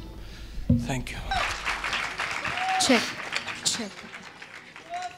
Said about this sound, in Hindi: जोरदार तालियां सोहन के लिए